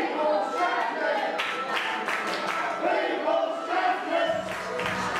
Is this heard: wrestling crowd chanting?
yes